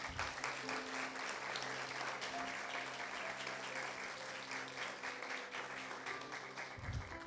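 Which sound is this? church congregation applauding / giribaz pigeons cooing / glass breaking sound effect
church congregation applauding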